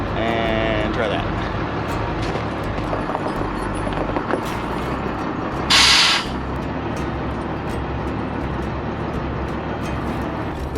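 A school bus pulls forward, its engine a steady low rumble that runs through the whole stretch with a short burst of hiss midway, while a voice talks over it.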